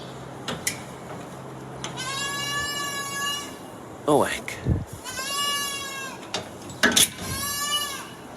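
Several goats in a field bleat loudly nearby in long, quavering, repeated cries, three main calls spaced a few seconds apart, with a person speaking briefly between them.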